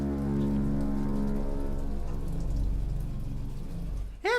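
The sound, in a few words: rain falling in video game Bioshock Infinite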